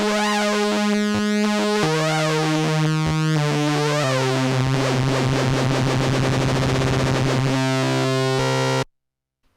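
A Behringer MonoPoly synthesizer plays sustained, buzzy tones stepping between pitches, its sound wobbling and warbling as modulation generator 1 sweeps the frequency at changing speeds, loud and up front before cutting off abruptly near the end.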